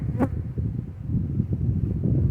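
Honey bee swarm buzzing steadily at close range, a dense continuous hum with one brief louder pass from a bee flying near, no voices.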